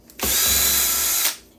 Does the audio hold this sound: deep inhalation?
no